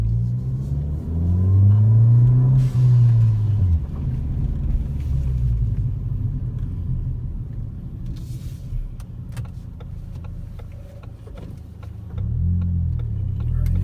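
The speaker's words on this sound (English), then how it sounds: "you'll be able to hear the blow-off valve adapter" Revving car engine fitted with a blow-off valve adapter and Mountune and MBRP aftermarket parts, a deep loud rumble rising and falling through several throttle blips, with brief hissy bursts on release and a steady idle between.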